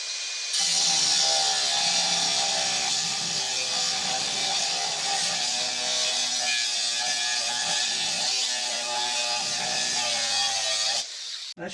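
A slit being cut into the welded joint of a repaired band saw blade, a steady, continuous abrasive sawing or grinding sound held close and loud for about ten seconds before stopping abruptly.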